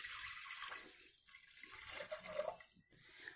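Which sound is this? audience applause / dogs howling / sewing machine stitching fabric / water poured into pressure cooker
water poured into pressure cooker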